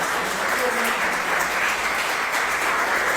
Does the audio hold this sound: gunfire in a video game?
no